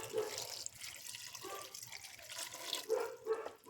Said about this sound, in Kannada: ಇವಾಗ ಬೇಯೋದಕ್ಕೆ ಎಷ್ಟು ಬೇಕಷ್ಟು ನೀರು ಸೇರಿಸ್ಕೊಳ್ಬೇಕು